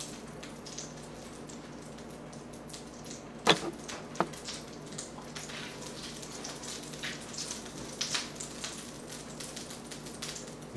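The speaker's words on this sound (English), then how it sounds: "that nice sizzle tells you" Butter sizzles in a hot pan with a soft, steady crackle and hiss, punctuated by a few sharper pops and spits. The sound stays fairly quiet and close throughout.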